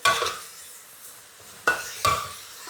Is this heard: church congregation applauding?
no